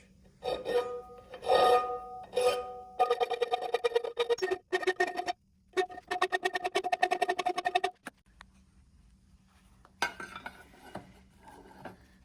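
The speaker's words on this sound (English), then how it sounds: "I just got a little bit of filing to finish" A hand file rasps against a metal part for a custom shallow water motor, in close, repeated bursts of quick back-and-forth strokes separated by short pauses.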